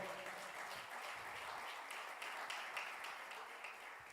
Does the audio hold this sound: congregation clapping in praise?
yes